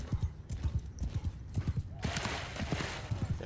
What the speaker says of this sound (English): That horse went down fast.